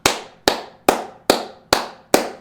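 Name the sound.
hand clapping, round of applause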